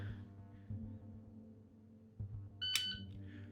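A dryfire shot timer gives one short, sharp electronic beep near the end, loud against a quiet background hum and faint rustling.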